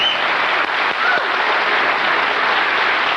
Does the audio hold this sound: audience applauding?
yes